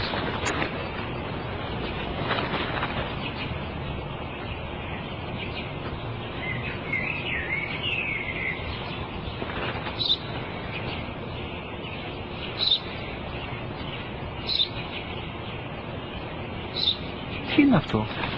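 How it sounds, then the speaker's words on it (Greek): Sparrow chirping outdoors, short bright tweets recurring every couple of seconds over a steady background hiss, with people talking throughout. "Ένα σπουργίτη είναι, πατέρα."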